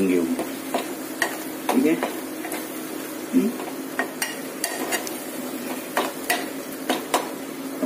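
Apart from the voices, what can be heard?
prawns being mixed and stirred in a pan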